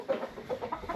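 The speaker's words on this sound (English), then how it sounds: "We found the chickens." Chickens on an Iowa farm cluck in quick, close, repeated short calls across a brief moment outdoors.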